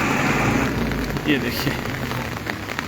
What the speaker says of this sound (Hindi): आज भी काफ़ी तेज़ बारिश हो रही है